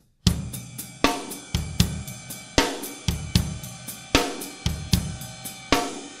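A drum kit plays a steady groove with regular hi-hat, kick and snare hits landing in an even, repeating rhythm, close and loud with cymbal wash between strokes.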